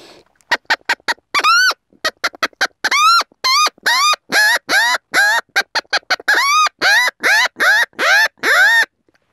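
A handheld predator call imitates a chicken with rapid, loud squawking clucks, starting in short bursts and settling into a steady rhythmic series.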